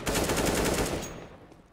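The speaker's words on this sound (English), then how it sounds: "Just add a bit of gunfire to the end of the round" In a Counter-Strike: Global Offensive match, an automatic weapon sprays a rapid burst of shots for about a second. The fire is loud and close, then fades into echoing tail noise.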